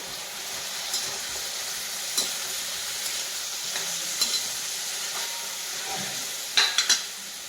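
Tomatoes seasoned with cumin, chili and salt sizzle softly in a pan for a Gujarati sev tameta curry, a steady hiss with occasional light spoon clinks and scrapes, a small cluster of taps near the end.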